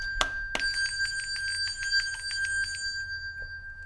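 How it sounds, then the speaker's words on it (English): A bright metallic bell rings again and again, starting with two sharp strikes and then a quick, fast-trilling run of rings that fades away near the end, loud and close with no talking. "Let's ring that bell, babies."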